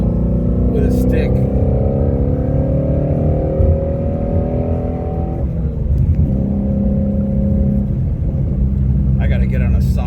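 Ford Mustang Shelby GT350R with a manual gearbox on a test drive: a loud, close in-cabin engine drone that rises in pitch, drops at a gear change, then climbs again under steady rumble.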